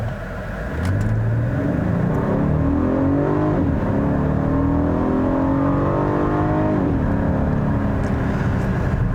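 A 2020 Volkswagen Atlas Cross Sport SUV engine accelerates hard, its steady drone rising in pitch through the gears with a brief dip at each shift, heard from inside the car and loud throughout.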